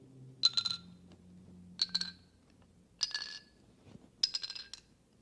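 A set of vibrating metal bars struck one at a time, one bar slightly out of tune with the rest: four bright ringing strikes spaced about a second apart, each decaying quickly, over a faint low hum.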